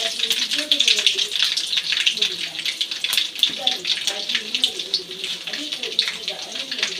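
Garlic crackles and sizzles in hot oil in a pan for a jackfruit curry, a dense, steady spatter of fine pops throughout, close and loud, with a voice talking over it.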